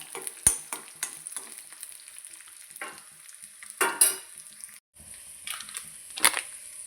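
Garlic, green chili and curry leaves fry in a pan with a soft continuous sizzle, broken by several sharp stirring scrapes and clatters, the loudest around the middle and near the end.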